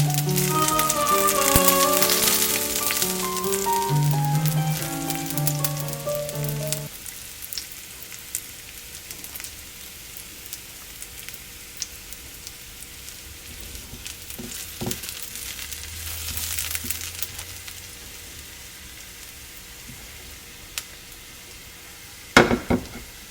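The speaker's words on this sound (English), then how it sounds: "Garlic burns fast, so sear it quickly on one side until it turns golden." Garlic slices searing in a pan until golden, heard as a quiet, steady sizzle with faint crackles, preceded by a few seconds of soft melodic music and broken by an occasional sharp click.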